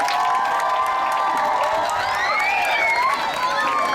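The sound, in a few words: audience of children clapping for school directors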